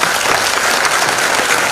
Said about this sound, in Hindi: और इसके लिए एक बार जोरदार तालियां